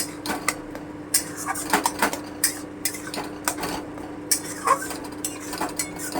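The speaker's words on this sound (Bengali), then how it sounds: "এবারে এটাকে মাঝে মাঝে একটু নেড়ে নেড়ে কষিয়ে নিতে হবে খুব ভালো করে" A spoon scraping and knocking against a pan as green banana mash is stirred and cooked down, irregular close clatter over a low, steady background hum.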